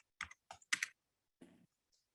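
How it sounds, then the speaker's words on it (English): Typing on a computer keyboard during an office lunch-and-learn presentation: a few short bursts of keystrokes in quick clusters, then a softer brief patter, close and fairly quiet with no talking. "you're going to have to bear with me while I actually type this all out"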